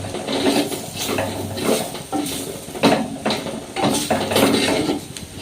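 A spoon stirs chili powder, fennel powder and garam masala in a pan for prawn roast, producing rhythmic close scraping strokes about once a second over a faint sizzle.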